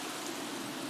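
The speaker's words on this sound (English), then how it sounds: "Oh, that rain is loud." Steady rain in The Sims 3, a dense, even hiss of falling drops, loud and unbroken with no other sounds.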